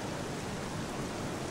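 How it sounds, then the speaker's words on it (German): Steady, dense rain falls in The Legend of Zelda: Twilight Princess HD, a constant broadband hiss with no gaps, close and fairly loud. "Ach so, jetzt regnet es natürlich"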